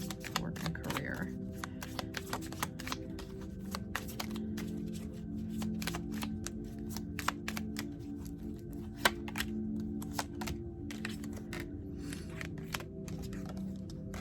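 Tarot cards being shuffled and handled for a reading, a long run of crisp quick flicks and riffles near the microphone over a low steady background hum.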